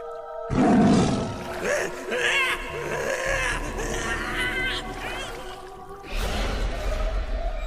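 A tiger roars in a cartoon, a loud, rough growling burst near the start followed by further snarling roars over a busy musical soundtrack, with a voice speaking over part of it.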